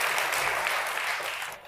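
Studio audience at a Stephen Colbert late-night taping applauding loudly in a dense, steady wash of clapping that carries through the whole moment and fades slightly at the end.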